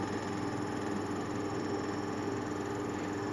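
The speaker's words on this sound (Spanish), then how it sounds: "Y un traqueteo del compresor." Compressor of an inverter air conditioner running steadily, with a continuous dense rattle and hum held at an even level throughout, fairly close and with no voices.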